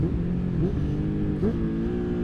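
A 2023 Honda CBR 650R motorcycle accelerates hard out of corners in fifth gear, its engine note climbing in pitch in several rising surges, loud and close with steady wind underneath.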